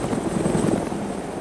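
A helicopter in Arma 2 gives a loud, steady rotor thump and engine drone, close and continuous through the brief moment.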